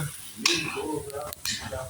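Meat frying in a pot for Uzbek plov gives a steady close sizzle with stirring scrapes and a couple of sharper clanks, while a voice talks quietly over it.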